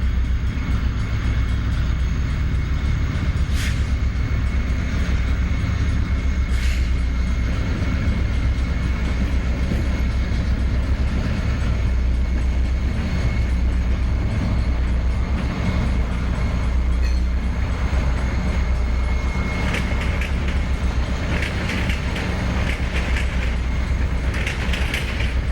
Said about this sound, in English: 3 Jeeps are on the point of an eastbound as they roll past the depot in Fresno.